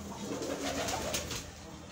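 Pearl-marked pigeons on a rooftop in Gujrat give a steady, low, murmuring coo that runs through the whole moment, fairly close and continuous with no talking.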